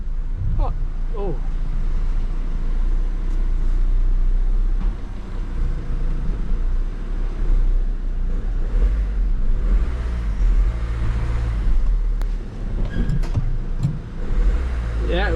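An old Copart van's engine runs as it is driven, a steady low rumble with road noise throughout, and a voice talks over it now and then.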